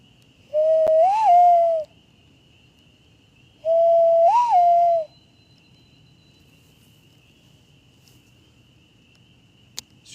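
Hand whistle imitating an owl hoot, blown into cupped hands outdoors in Northern Ontario woods: two clear, hollow, slightly rising hoots, well apart, over a faint bed of crickets and insects, with a small tap near the end.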